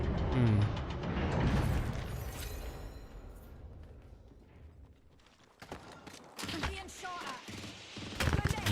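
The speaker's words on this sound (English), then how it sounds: "You are being shot at." Gunfire in a battle royale video game: dense bursts of rapid shots, loudest at the start and again toward the end, mixed with game effects and a voice talking over the action.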